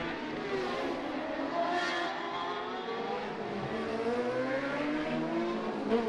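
Honda racing motorcycle circling the Macau Grand Prix street circuit during qualifying, its engine note held steady and fairly loud throughout, with a faint background drone of other bikes and no talk.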